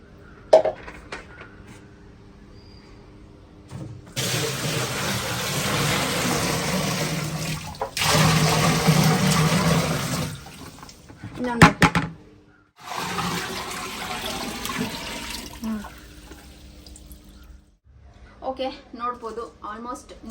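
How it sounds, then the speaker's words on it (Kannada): Water gushes in strong bursts, pouring and splashing from buckets into a washing machine tub, separated by short pauses; a voice talks at times between the pours. "ನೀರು ಹಾಕ್ತೀನಿ"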